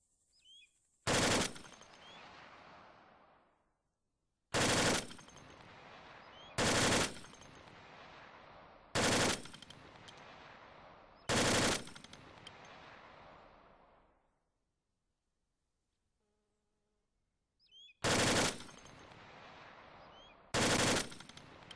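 Machine gun fire in the video game ArmA 2, short loud bursts spaced a couple of seconds apart, each followed by a long fading echo, with a pause before two final bursts.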